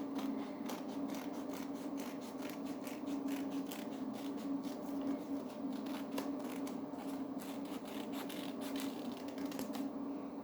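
Scissors snipping through paper along a drawn line, a steady run of quick crisp cuts close to the listener, with no talk over the cutting.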